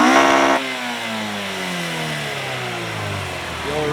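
A swapped Toyota 3S-GE BEAMS 2-litre engine with a six-speed in an FR-S/BRZ gives a sharp rev, then the revs fall away in a long, falling whine that settles toward idle before picking up slightly again.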